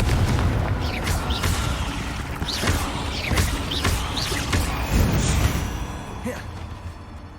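Confringo fire spells burst one after another in Hogwarts Legacy, a string of heavy booming blasts and pops rolling over a dense, rumbling game soundscape.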